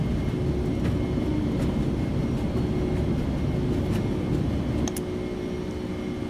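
Boeing 747-200F taking off in X-Plane 12: a steady, loud, deep engine roar with a broad rushing hiss holds throughout at constant strength, with faint clicks on top.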